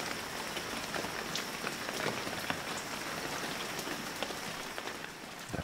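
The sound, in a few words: rain in Shenmue 3 video game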